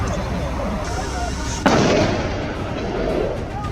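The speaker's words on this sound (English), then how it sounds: "Following the sharp crack of gunfire" A single sharp gunshot crack rings out mid-clip during a helicopter wild boar hunt, followed by a decaying echo over a low background rumble.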